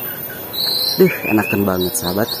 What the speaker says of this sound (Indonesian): Ada burung berkicau.